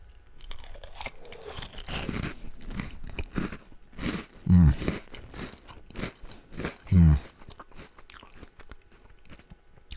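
Dunkin Mocha Latte cereal crunches through repeated close bites and chewing, with two especially loud crunches standing out midway.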